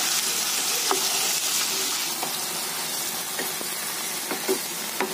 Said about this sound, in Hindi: लहसुन अदरक का पेस्ट डाल दिया है मैंने साथ में ताकि इसके साथ वो भी भुन जाएगा